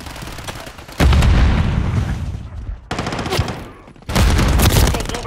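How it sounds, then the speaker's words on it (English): Grenade explosions and gunfire in a Call of Duty match on the Meat map: loud, booming bursts at about one-second intervals, each followed by a rumbling tail. "Tossing grenade."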